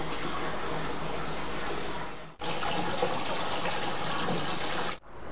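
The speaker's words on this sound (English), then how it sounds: "You can see there's like a water refill station here." Water rushes steadily from a public water refill station in the seaside town of Seaton, Devon, a loud, continuous hiss that cuts out briefly twice.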